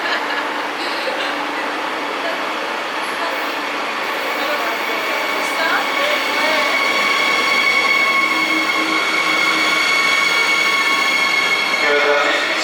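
A light rail train runs steadily at a busy station during rush hour in Israel, its rumble and rising wheel squeal filling the space, with people talking faintly in the background.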